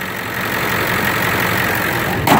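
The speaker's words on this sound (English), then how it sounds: "You can see how nice and smooth the engine runs." A 1999 Ford F250 extended cab 4x4 with the 7.3L Power Stroke diesel idles steadily and smoothly, a continuous close rumble with no speech, plus a brief louder burst right at the end.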